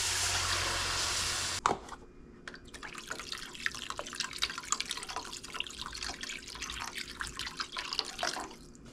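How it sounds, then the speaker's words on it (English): Broth pours steadily into a pan for a Salisbury steak dinner, then stops abruptly, followed by close, soft liquid swishing and light clinks as it is stirred in. "So we're gonna stir in the broth."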